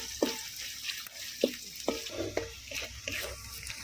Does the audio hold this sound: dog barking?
no